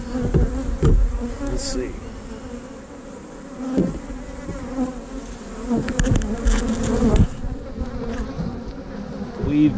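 Honeybees buzz steadily around an open hive colony, with workers carrying pollen and brood hatching; the dense droning hum stays close and continuous, with a few louder passes nearby and a brief spoken remark.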